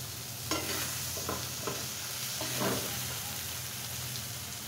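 Spoon stirring magic masala spice mix into instant noodles cooking in a pan, with a steady low sizzle and several short scraping strokes spread through the clip, alone with no talk.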